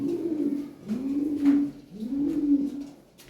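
Lahori pigeons coo close by, three rolling low coos in steady succession, loud and clear with no voices over them.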